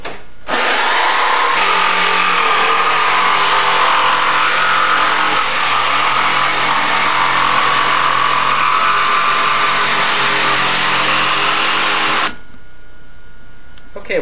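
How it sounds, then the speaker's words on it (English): Jigsaw cutting a design out of a board for a haunted mansion detail, a loud, steady buzzing run that holds for about twelve seconds before stopping abruptly, with a faint hum left after. "I'm going to take the jigsaw, and I'm going to start cutting that design out."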